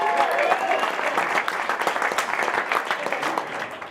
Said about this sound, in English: Please give them a special round of applause.